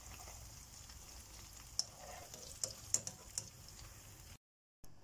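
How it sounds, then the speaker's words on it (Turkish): Steady hiss of peppers frying in hot oil, with scattered sharp pops and crackles rising above the sizzle, close and fairly quiet. "aynı yağ içerisinde biberlerimi de kızartıyorum."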